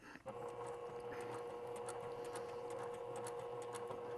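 A sewing machine stitches steadily along the seam of a small spa eye or neckroll pillow, a close, continuous mechanical whir with a sustained tone and light rhythmic clatter, starting after a brief pause and running alone.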